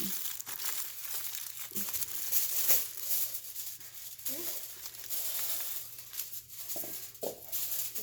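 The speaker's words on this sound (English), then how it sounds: "I need another piece of foil, please. We're going to cover it completely up." Aluminium foil is crumpled and crinkled close by, in continuous rustling bursts, while wrapping an air layer on a tree outdoors; brief speech is heard alongside.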